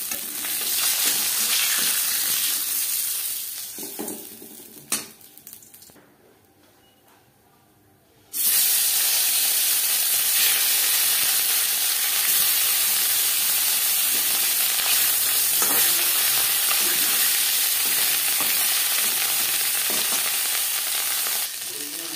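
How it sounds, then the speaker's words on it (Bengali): Fish pieces fry in hot oil in a kadai, with a loud, steady sizzle and hiss throughout, briefly dropping to near quiet for a few seconds before the dense crackling resumes. "3 বারে আমি মাছ ভেজে নেব।"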